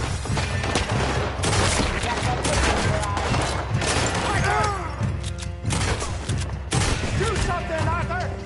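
Shootout gunfire from Red Dead Redemption 2, dense bursts of shots and heavy thuds running throughout amid game music, with voices shouting over the battle.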